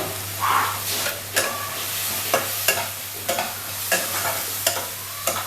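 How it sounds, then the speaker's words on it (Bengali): Spices sautéing in a pan for achari masala okra, a steady loud sizzle with a low hum beneath and periodic scraping stirs roughly every half second to a second, no voices. "মশলাগুলো আমি ভালো করে কষিয়ে নেব"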